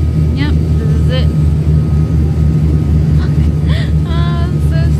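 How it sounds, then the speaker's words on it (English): Steady, loud jet cabin drone with low engine hum fills the interior of an airliner on its landing approach to Saipan, continuous throughout, with brief voices and chirpy sounds over it. "Oh, here we go. We're landing."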